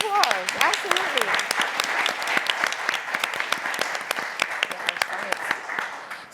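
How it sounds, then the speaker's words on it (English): Audience applause at a summer youth employment program event, many hands clapping in a dense, steady patter that carries on throughout, with a voice speaking briefly over the start. "let's give them a round of applause"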